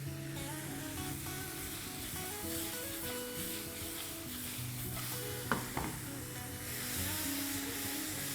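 Ketchup stirred into tomato spaghetti sauce in a pan, a steady low scraping and stirring over a faint sizzle, with a couple of sharper knocks partway through; no voices.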